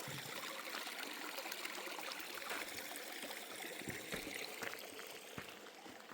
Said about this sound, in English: It's a cute little stream.